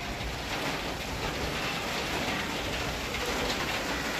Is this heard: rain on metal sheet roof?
yes